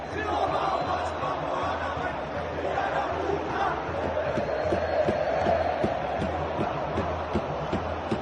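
Football supporters chanting together at a stadium, a dense and steady crowd roar with rhythmic pulses that carries on for several seconds, and a voice talks over it.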